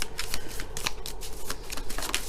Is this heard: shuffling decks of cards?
yes